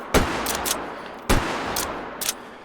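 Two loud, close shots from a pump-action AR rifle in the VR video game H3VR, about a second apart, each followed by quick mechanical clacks of the pump being cycled.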